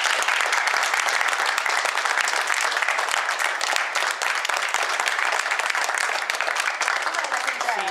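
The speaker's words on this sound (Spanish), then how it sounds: "Así que nuestro aplauso a ellos, por favor" Audience in a small theatre workshop setting applauding the performers, sustained dense clapping from many hands filling the space at even strength throughout, with no speech over it.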